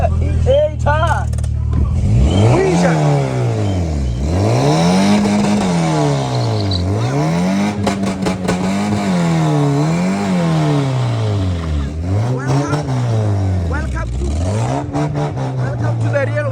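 A Mk3 car engine revs repeatedly during a burnout, the pitch swooping up and down in rhythmic waves, loud and close, with brief shouting near the start.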